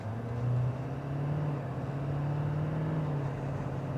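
A 2023 Ford Super Duty F-250 pickup truck pulls away from a standstill, its engine drone rising steadily and holding a low, continuous hum throughout with no talking.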